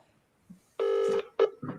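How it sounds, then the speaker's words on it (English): Telephone tones while placing a call during a live stream: a single steady electronic tone about half a second long, followed by short blips and faint background noise. "I'll try to ring Francis, see if we can get him over the phone, as opposed to video"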